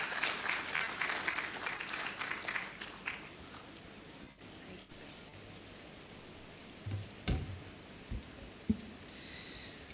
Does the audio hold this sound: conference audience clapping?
yes